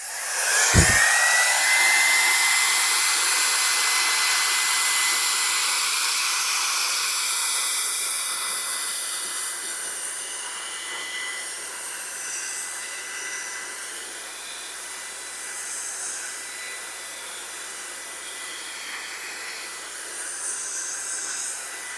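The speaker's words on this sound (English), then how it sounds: "We're going to test this little guy and see how it performs as a vacuum." A small handheld vacuum switches on with a click and runs at a steady high-pitched whine and hiss for the whole stretch.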